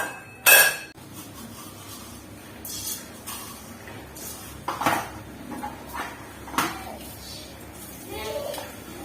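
Metal cookware clatters in a home kitchen as a pressure cooker is set down for a potato side dish, with a few sharp knocks and clinks spread across the stretch and speech heard in between.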